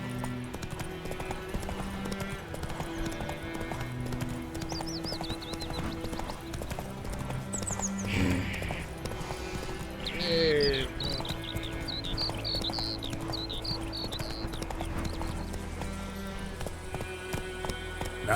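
Roach, a horse in The Witcher 3, gallops in a steady clip-clop of hooves that runs throughout, set over game music with brief tonal effects in the middle.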